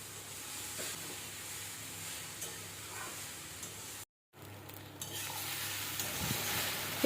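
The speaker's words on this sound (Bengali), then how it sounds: "এবারও এগুলোকে সব ভালো করে নাড়াচাড়া করে নিতে হবে একসঙ্গে" Flattened rice (chira) is stirred dry in a pan, a quiet, continuous scraping rustle with a faint sizzle that drops out briefly partway through and then returns slightly louder.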